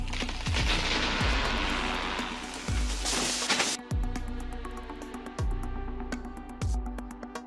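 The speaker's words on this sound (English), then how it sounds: "everything collapsed and broke spectacularly, the cracking sound like a gunshot." A heavily leaning tree trunk cracking and breaking apart as it collapses, with several sharp, loud gunshot-like snaps spaced a second or so apart over a dense, rushing crash of falling wood and branches.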